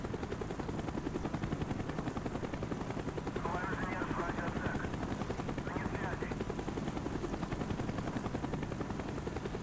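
Helicopter in the video game Call of Duty Black Ops, a steady, loud rotor drone with chopping pulses that holds for the whole stretch, with faint bursts of gunfire-like noise and indistinct game voices mixed underneath.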